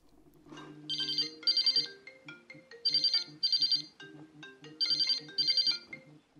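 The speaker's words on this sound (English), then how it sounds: "If you have phone call alerts on, here's what happens when your friend calls you halfway through recording a video." A phone ringtone sounds as an incoming call alert comes through on a Wahoo Elemnt Bolt bike computer: a bright melodic chime in three paired bursts, clear and close in a quiet room.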